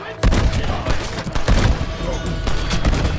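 Gunfire from the Red Dead Redemption video game, with several loud, close shots cracking in quick irregular succession over a dense mix of game sound and music.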